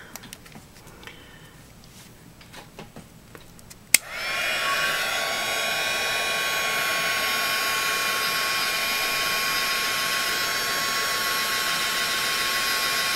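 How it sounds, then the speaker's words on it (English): Heat embossing tool switching on with a click and then blowing hot air in a steady, loud whooshing roar that holds unchanged for several seconds after a few quiet handling noises. "Always keep your heat tool moving when you're working."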